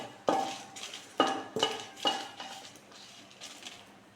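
Byadagi chillies dropped into hot oil in a pan, heard as a few sharp clinks and clatters followed by light sizzling, close and fairly quiet with no talk.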